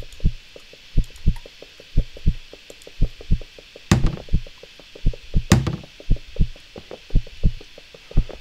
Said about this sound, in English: I hear my heart beating faster